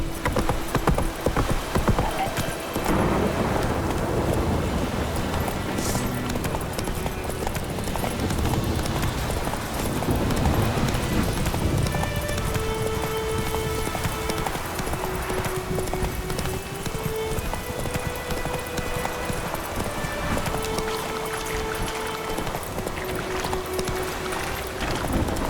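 Horse galloping in The Witcher 3: Wild Hunt, a steady rapid clip-clop of hooves that runs on without a break under a dense game soundscape with music tones.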